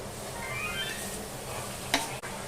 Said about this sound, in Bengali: দেখুন এবার আম দিয়ে আবার পেঁপেটাকে ভালো করে নেড়ে নেব